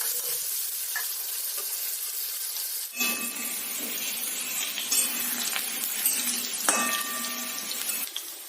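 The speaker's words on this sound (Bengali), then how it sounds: "তেল গরম করে আলুগুলো সোনালি করে ভাজতে হবে" Potatoes tossed in turmeric fry in hot oil for a Bengali broccoli egg curry, giving a steady close sizzle with occasional clinks and stirring scrapes, no voices.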